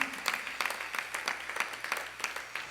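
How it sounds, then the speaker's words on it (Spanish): A church congregation gives an applause of praise: a soft, fairly rhythmic clapping from many hands that carries on evenly throughout. "Yo creo que debe ese aplauso de alabanza a la palabra del Señor."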